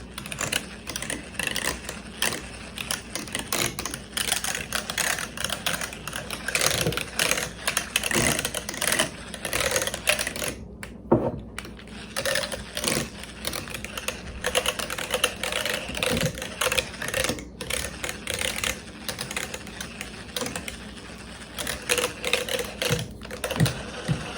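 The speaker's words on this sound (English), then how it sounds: "I'm just gonna beat it. With this hand mixer." A hand mixer beats days-old milk in a bowl, making a continuous close rattling whir with rapid clicking of the beaters against the bowl that runs for about twenty seconds, with a brief break midway and no speech.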